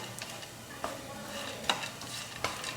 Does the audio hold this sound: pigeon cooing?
no